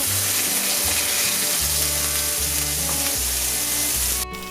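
Hamburger patties fry on high heat with a loud, continuous crackling sizzle that fills the whole stretch, along with a low repeating hum, and it drops away abruptly near the end.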